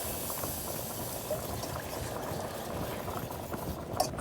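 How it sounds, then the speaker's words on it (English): Milk, butter and flour mixture stirred over medium heat for a creamy potato soup, a steady soft bubbling and scraping texture running continuously at moderate, even level with no talk. "So you're gonna keep stirring the milk, butter, flour mixture for about 4 or 5 minutes over medium heat"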